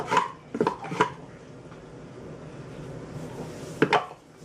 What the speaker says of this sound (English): I'm going to roll it out